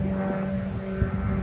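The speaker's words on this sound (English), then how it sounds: "Can you hear this drone?" A drone flies overhead in Iran, a steady droning engine hum with a constant tonal whine, loud and unbroken, with no talking.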